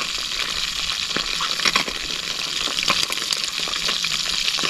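Piau fish frying in hot oil outdoors on a riverbank, a loud continuous crackling sizzle close by with scattered sharp pops and spatters.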